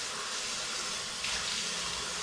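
A tap runs water over the blades of a Wahl hair clipper, a steady close rush of flowing water that rises slightly partway through, with no talking.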